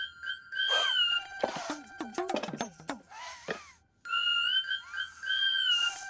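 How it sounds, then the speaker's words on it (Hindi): A pressure cooker whistle shrills in a home kitchen, a sustained, loud, piercing tone that rises in pitch and repeats, broken in the middle by a jumble of clattering and voice-like sounds. "ये तो कुकर की सीटी है।"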